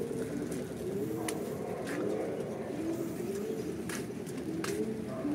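Racing pigeons coo in a steady, continuous murmur at a derby loft in Bauang, La Union, several birds overlapping with rising and falling tones, moderately close, with no talk.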